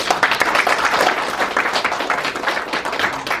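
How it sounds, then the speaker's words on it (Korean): Members at a literary society meeting applaud in approval of a plan, a warm, continuous patter of many hands clapping indoors at moderate loudness. "그럼 뭐 찬성하시는 분은 박수 쳐주시는 거로."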